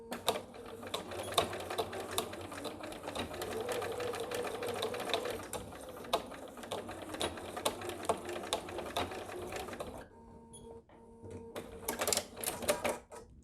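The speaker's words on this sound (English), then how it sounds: "I like to first just make one line with good back stitching right along the edge of the D-ring." A sewing machine stitches along the edge of a D-ring on a fabric sling bag, a steady run of rapid needle clatter with short pauses, then a brief near-silent gap before it starts stitching again.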